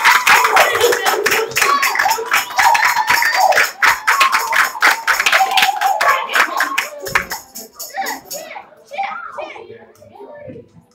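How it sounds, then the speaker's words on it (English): A church congregation applauds loudly and steadily for about eight seconds as voices and children's chatter mix in, then the clapping fades and speech carries on. "let's give a big round of applause"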